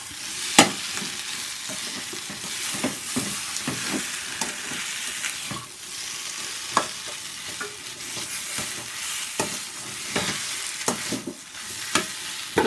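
Coriander is stirred into a tapioca stir-fry sizzling in a pan, with a constant crackling fry and frequent sharp utensil scrapes and knocks, close up and without speech.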